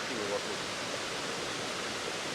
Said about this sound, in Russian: и там вода шумит